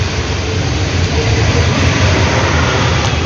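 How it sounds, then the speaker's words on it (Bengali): A metro train and road traffic pass close by outside a party venue, making a loud, continuous broadband roar and rumble that holds steady for about three seconds, with no voices. "এত গাড়ি যাচ্ছে পার্টিতে এখানে মেট্রো যাচ্ছে"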